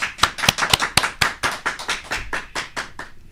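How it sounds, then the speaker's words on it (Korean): Clapping welcoming a lawyer guest onto a studio talk show, sharp distinct hand claps from a small group in a quick, uneven rhythm that gradually thins and fades out. "자, 큰 박수로 환영해 주십시오."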